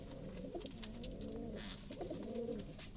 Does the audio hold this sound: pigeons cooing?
yes